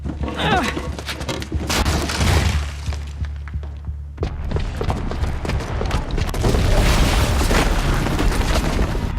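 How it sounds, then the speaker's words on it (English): A booby-trapped bomb goes off in Horizon Zero Dawn, with a loud booming blast and shattering debris, a rumbling low roar that dips briefly and then swells again into a sustained crashing aftermath, with voices mixed in. "the booby trap on the bomb downstairs is gonna get set off"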